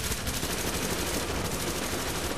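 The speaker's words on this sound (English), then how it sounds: "Who are they shooting at?" Rapid, dense gunfire from automatic weapons in the video game Tom Clancy's The Division, a continuous rattling burst filling the whole moment with no talking.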